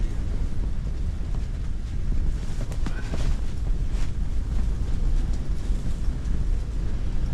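Strong wind gusts sweep across a frozen lake while ice fishing, a continuous loud, rumbling roar buffeting the microphone throughout.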